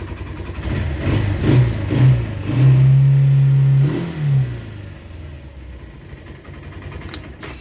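A 2020 Tracker 300 ATV engine runs after a cold start, revving up in several short bursts and one sustained rise before easing back to a steady, close idle.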